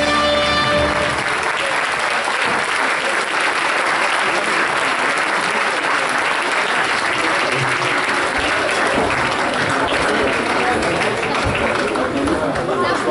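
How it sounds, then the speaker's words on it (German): A crowd applauds at a Cologne carnival children's triumvirate proclamation, a loud, continuous wash of clapping sustained throughout, with voices mixed in beneath it. "Einen großen Applaus bitte!"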